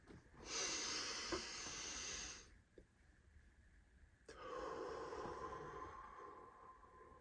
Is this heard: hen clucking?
no